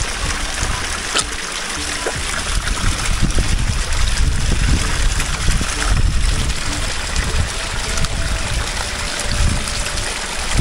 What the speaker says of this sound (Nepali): यति पवित्र जल बगिरहेछ यो चाहिँ सदाबार